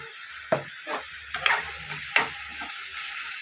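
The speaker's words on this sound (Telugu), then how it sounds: "ఇప్పుడు ఇందులో ఫ్రై అవ్వడానికి తొందరగా టమాటా మగ్గుతుంది" Tomatoes frying and being stirred in a pan for an Andhra-style egg curry, with a steady sizzle under several sharp scraping stirs, close up and without talk.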